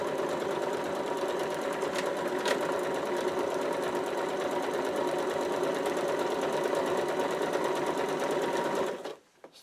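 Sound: sewing machine stitching

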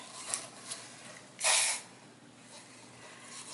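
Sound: WD-40 silicone spray being sprayed

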